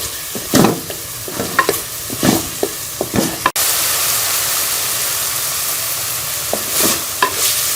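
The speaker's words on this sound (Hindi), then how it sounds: "इसमें सारे ड्राई मसाले डाल के इसको अच्छी तरह से मिक्स कर लेंगे सारे मसालों को चिकन के साथ" Chicken frying in a pan as dry spices are stirred in, with loud scraping and clattering stirs over sizzling in the first half, then a steady hissing sizzle with a few more stirs near the end, close and without talk.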